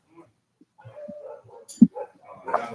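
A dog gives a few short barks and soft whimpers, with one sharp loud yelp standing out near the end, mixed in among scattered bits of nearby talk.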